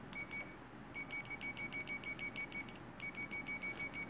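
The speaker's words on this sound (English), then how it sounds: "It must have a small piezo or speaker inside the multimeter" An ANENG H01 multimeter's small built-in piezo sounds its continuity test, a series of short, sharp, high-pitched beeps in quick rhythmic bursts, with a brief pause between groups, clear and close.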